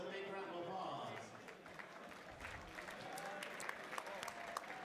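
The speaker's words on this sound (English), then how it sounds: "let's give these boxers a big round of applause." A crowd at an amateur boxing event applauds the senior novice boxers, with clapping swelling over chatter and crowd noise while voices carry on underneath.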